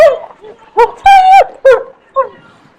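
A dog in a fit gives a short run of loud, close whimpering yelps and strained barks in uneven bursts, the longest drawn-out cry in the middle, with brief quiet gaps between.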